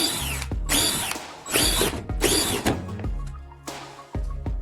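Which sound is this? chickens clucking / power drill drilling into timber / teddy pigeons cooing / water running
power drill drilling into timber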